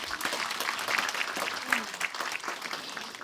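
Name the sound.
applause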